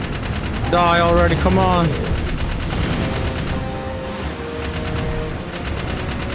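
Rapid turret gunfire in a video game rattles on in fast, even bursts, loud and close, while someone speaks briefly over the shooting near the start.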